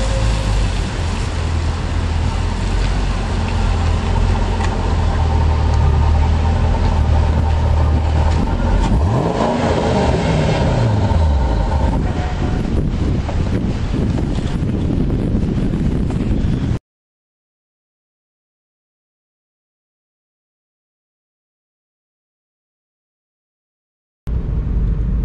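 A white base-model C5 Corvette with an LS7 engine swap drives past, its engine roaring and building with rushing wind noise, the pitch falling as it passes. The sound then cuts to silence before a brief return at the end.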